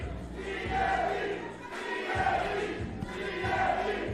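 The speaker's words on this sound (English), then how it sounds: "fans cheering for GME in the audience here" Fans in the audience at an 880 Wrestling show cheer for the Italian strongman, a sustained roar of many voices swelling and dipping in waves.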